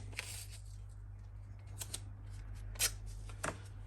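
Tape is pulled off a roll in a few quick, crackling rips, faint and close, over a steady low electrical hum, while a Beretta 1301 Comp shotgun is being worked on.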